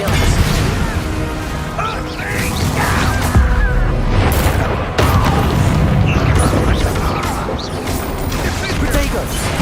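Spell combat in the Hogwarts Legacy video game: a string of loud magical crashes, thwacks and booming impacts over about ten seconds, with voices calling out over the fight.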